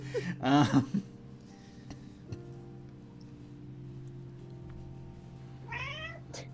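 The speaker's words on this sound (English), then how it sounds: "Very loud kitty." A cat meows loudly twice, a strong drawn-out meow near the start and another a few seconds later, with quiet room hum between.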